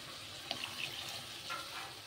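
Water is poured into a pan of cooking pomfret fish curry, giving a soft, steady splashing trickle that runs throughout at low volume, without talking.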